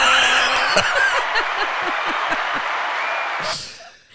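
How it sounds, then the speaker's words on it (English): A recorded round of applause plays back, broad crowd clapping mixed with chuckles, steady for a few seconds before cutting off and fading quietly. "I'm trying to get the round of applause."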